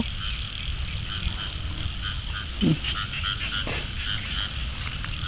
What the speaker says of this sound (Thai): โอ้ยเสียงเขียด เสียงเขียดเสียง